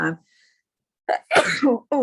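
A single person sneezes sharply, with brief vocal sounds just before and after, close and loud in a quiet indoor setting.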